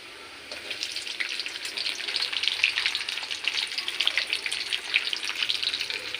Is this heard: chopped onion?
yes